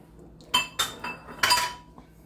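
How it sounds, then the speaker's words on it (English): A metal whisk clinks against a pot as room-temperature water is whisked into crockpot short rib juices, four or five quick, close rattling strokes over a quiet background. "And start whisking this"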